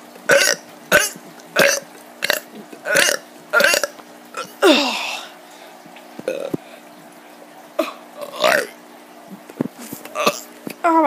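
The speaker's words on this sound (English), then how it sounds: "let's just get to some burps." A kid lets out a string of repeated burps, loud and close, in quick bursts with short pauses between them, one drawn out longer than the rest.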